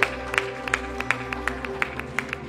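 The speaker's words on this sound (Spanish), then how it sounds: "Un aplauso fuerte al Señor." Applause from a congregation in a Spanish-language church service, heard as a rhythmic, fairly faint run of sharp claps keeping time over a low sustained musical hum.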